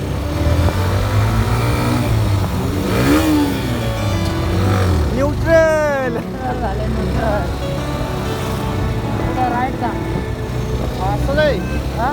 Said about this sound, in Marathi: मस्त गाडी स्पीडने येते